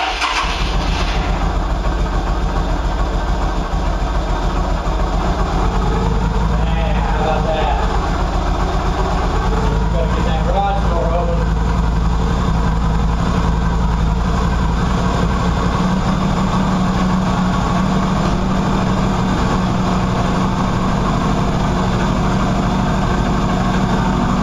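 A Qlink QBK 250 Adventure motorcycle that has been sitting runs steadily after start-up, a loud, close idle with a continuous low rumble. A person talks over the engine at times.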